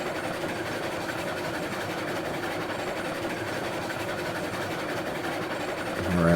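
Train in the video game RailRoads Online rolling fast along rails around a corner, a dense rumbling clatter with steady rhythmic wheel noise, continuous and moderately loud, swelling slightly at the very end, with no talking.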